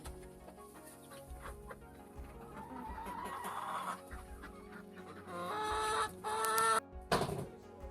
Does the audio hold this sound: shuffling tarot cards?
no